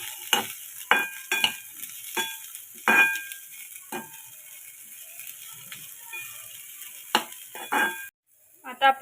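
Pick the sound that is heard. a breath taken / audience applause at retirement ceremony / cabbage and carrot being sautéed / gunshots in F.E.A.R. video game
cabbage and carrot being sautéed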